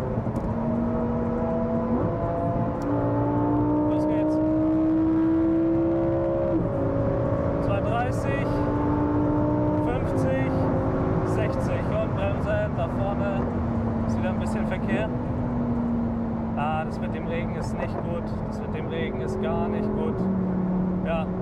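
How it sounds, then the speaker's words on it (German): Lamborghini Aventador SVJ driving on the German Autobahn, its engine droning steadily with rising and falling pitch as it shifts gears and exhaust pops crackle through, with continuous talk over the sound throughout. "aber man hört die ganze Zeit nur das Poppen vom SVJ"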